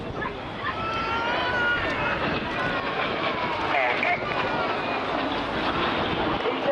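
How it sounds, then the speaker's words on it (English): RAF Red Arrows jets roar through a flying display at the Blackpool Air Show, a steady loud rushing engine noise that holds throughout with wind buffeting. "These aircraft formed an A1 roll."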